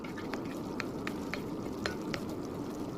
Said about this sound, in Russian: Помешиваем, следим, чтобы не образовывались комочки.